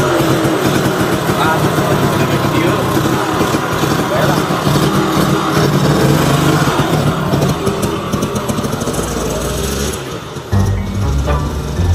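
A two-stroke motorcycle engine runs steadily nearby, its rumble continuous under people talking, with a brief dip near the end.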